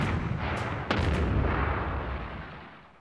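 A heavy artillery blast from a German supergun, the long-range gun that shelled Paris in March 1918: one sharp loud boom with a quick secondary crack, then a long rumbling decay that fades over about two seconds.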